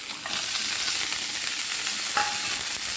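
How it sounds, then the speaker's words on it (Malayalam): Chicken pieces for spicy chicken 65 frying in hot oil, with a steady, loud sizzle and scattered sharp pops as moisture bursts, continuing without pause and with no voices. "അതിൻ്റെ ആ വെള്ളമയം ഉള്ളതുകൊണ്ടാണ് പൊട്ടി തെറിക്കുന്നത്."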